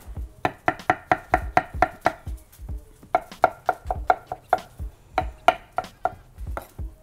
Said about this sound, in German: Hier den kleinen Pilzrotz, den schneiden wir auch einfach noch ein bisschen klein.